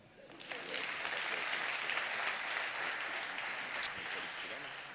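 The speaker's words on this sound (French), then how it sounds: "nous les applaudissons" Audience applause for pitch presenters at a business network forum, a steady wash of clapping from a room full of people, moderately distant and sustained for the whole stretch.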